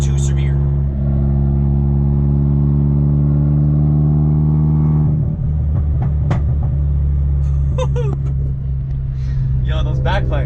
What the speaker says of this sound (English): Yo, those backfires.